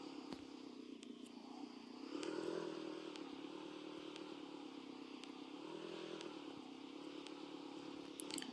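A car driven in the Roblox game Brookhaven gives off a steady, fairly quiet engine drone with a slight rise partway through, running alone with faint clicks.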